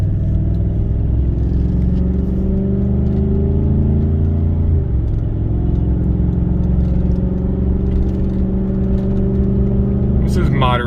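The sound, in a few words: 2018 Chevrolet Silverado with Magnaflow muffler accelerating, in-cab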